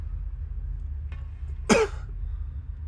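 A single sharp cough from a person with a cold, close and fairly loud against a quiet low hum, preceded by a faint throat sound.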